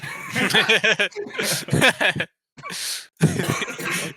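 Several coughs and throat-clearing bursts mixed with chuckling, close up, in short clusters separated by a brief pause.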